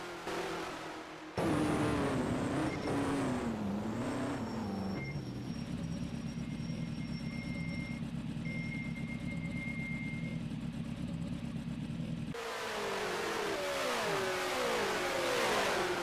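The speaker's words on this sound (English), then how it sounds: "I'd say that's probably an engine that let go" Race car engine letting go in an Indianapolis 500 racing game, a loud sustained engine drone with pitch dips and a harsh changing tone, then a revving sweep returning near the end, with no voices.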